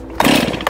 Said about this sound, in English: don't drop start a chainsaw too